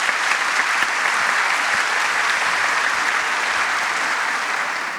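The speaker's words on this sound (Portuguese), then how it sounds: "Eu tinha certeza que ia ganhar essas palmas." An audience at a spiritual lecture breaks into sustained applause, a dense, loud, steady roar of clapping from a large crowd that fades slightly at the very end.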